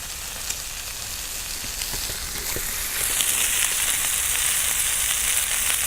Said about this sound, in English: Taylor's Lazy Sunday and a pan full of bacon